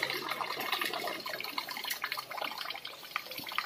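Water drains and splashes from a newly installed drinking-water purifier machine at home, a soft, continuous trickle with small drips and gurgles, fairly quiet and close.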